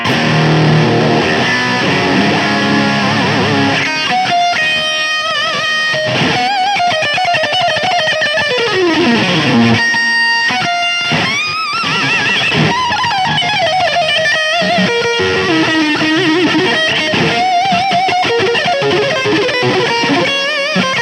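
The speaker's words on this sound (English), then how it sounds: "I'm now turning on the overdrive, and noise gate is on" Heavily distorted electric guitar played through an overdrive pedal with a noise gate, a tone from a BIAS Amp: loud, sustained chords and bending lead lines, with a gritty overdriven tone throughout.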